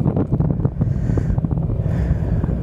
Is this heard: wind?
yes